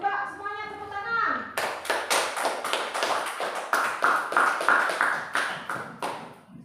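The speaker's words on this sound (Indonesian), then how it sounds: "Coba semuanya tepuk tangan." A classroom of children claps hands together in a brisk, fairly loud burst of sharp claps after a brief stretch of children's voices, the claps settling into a loose shared rhythm.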